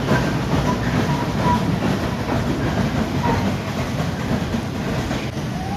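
A two-car funicular train climbs Shri Malang Gad with a continuous rumbling roar of wheels and track, steady and close throughout, with faint rattles on top and no voices.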